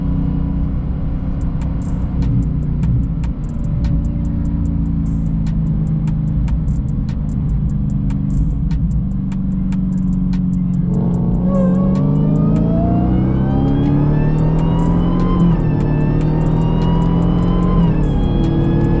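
Audi RS5 and Dodge Charger 392 Scat Pack racing side by side, engines roaring loud and close, with a steady drone that rises in pitch as both cars accelerate hard through the second half.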